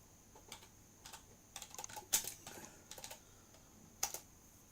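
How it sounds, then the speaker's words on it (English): Quiet, irregular tapping on a computer keyboard, short bursts of keystrokes with brief pauses between them and one or two heavier key presses, heard fairly close with no talking. "I type something in, what do I get?"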